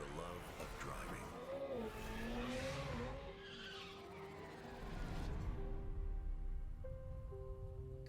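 A Hyundai Ioniq 5N performance car screeches its tires while racing in an advert, long squeals and skids rising and falling over engine noise, with a voice speaking over the sound.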